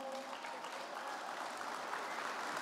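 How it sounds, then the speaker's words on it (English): Students at a high school baccalaureate ceremony clap for their families, a steady dense wash of applause from a large indoor crowd that holds even throughout. "clap for them"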